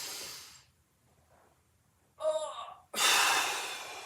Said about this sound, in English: Big inhale.